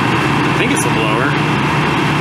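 The blower motor of an air conditioning unit that is not cooling runs with a constant whooshing hum while a person speaks over it.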